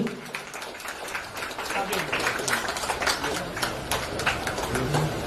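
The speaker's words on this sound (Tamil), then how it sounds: "முக்கிய நிகழ்வாக தற்பொழுது கல்வெட்டு திறக்கப்படுகிறது உங்களுடைய பணத்தை கைத்தட்டலோடு" Audience clapping at a Lions Club inauguration as a stone plaque is unveiled, a dense scattered patter of many hands at moderate distance with murmured talk and voices running underneath throughout.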